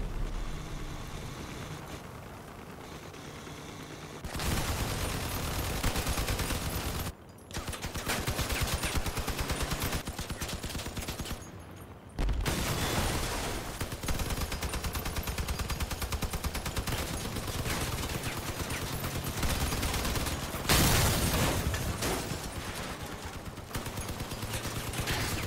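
Dense, continuous bursts of vehicle-mounted weapon fire from Crossout combat machines, loud and sustained with brief lulls and sharp restarts, dominating throughout with no talk.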